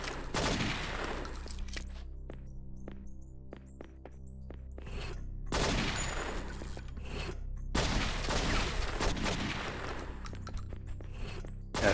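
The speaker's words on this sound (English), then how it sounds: "You shot a civilian." Bursts of rapid gunfire in a New York police video game, dense volleys separated by short gaps with scattered single shots and mechanical clicks, loud and close throughout with no talk.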